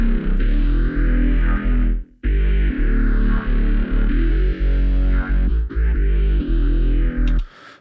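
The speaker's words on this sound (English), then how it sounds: "I'm going to send this to the distortion like I usually do" A heavily distorted, band-limited synth or guitar tone, band-limited with EQ before the distortion, plays loud and sustained, with a brief dropout midway and a fade at the end; no voices.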